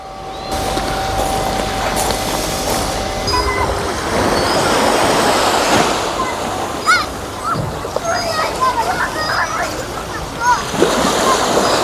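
Sea waves splash and wash onto a beach in Odesa, a broad steady surf with people talking over it and brief bird-like calls.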